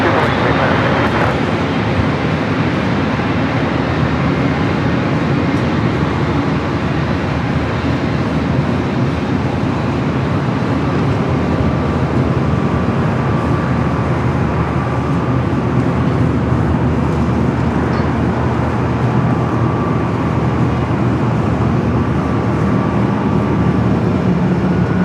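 An Airbus A350-1000 arriving at Los Angeles LAX airport makes a loud, continuous, deep jet roar that holds steady throughout, with no clear talk over it.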